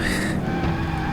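A car spins out in the Project Gotham Racing 2 video game, with a loud, continuous tire skid over the engine noise.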